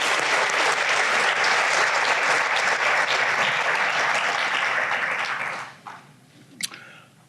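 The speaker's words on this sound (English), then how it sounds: "Let's give them a big round of applause." Audience at a dairy festival scholarship pageant breaking into loud sustained applause that fills the room for several seconds, then fades to scattered claps and quiet.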